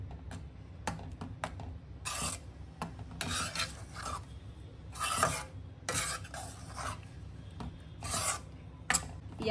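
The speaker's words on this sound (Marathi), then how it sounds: "छानपैकी आपण मिक्स करूया।" Bhagar, a fasting-day millet dish, being mixed by hand with ghee, lemon juice and coriander: scraping, rubbing spoon strokes in repeated bursts, close and fairly quiet, with no talk.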